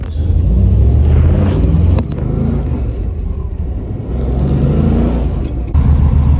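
A 1971 Dodge Demon with a 340 V8 and a 4-speed drives along with a loud, deep, rumbling exhaust heard from inside the car. The engine note dips briefly at a shift around two seconds and again near the end.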